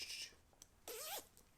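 A hoodie zipper pulled in two quick strokes, a short rasp then a longer zipping sweep, close and clear against a quiet background with no talking.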